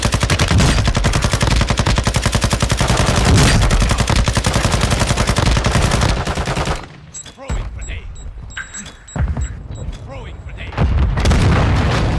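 Loud, dense video-game gunfire and explosions from a cluster mine set on a loadout, rapid automatic bursts and booms for about seven seconds, then scattered shots and impacts before the firing swells again.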